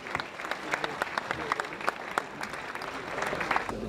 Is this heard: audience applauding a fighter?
yes